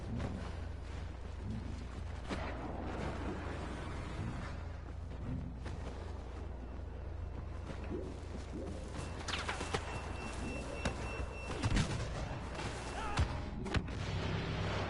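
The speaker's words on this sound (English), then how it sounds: "How did I survive that explosion?" Explosions and gunfire in Star Wars Battlefront played on PS4, a dense continuous battle din of booms and shots with sharper blasts standing out near the end, no talk over it.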